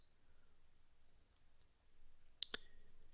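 Two quick, sharp mouse clicks land close together in an otherwise near-silent room, crisp and close.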